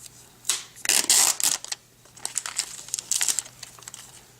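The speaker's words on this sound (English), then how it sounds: "Now let's just peel the wrapper off." Plastic wrapper being peeled off an Apple iPad 2 dock, close and crisp: crinkling bursts in the first two seconds, a quieter lull, then another round of rustling near the end, with no talking.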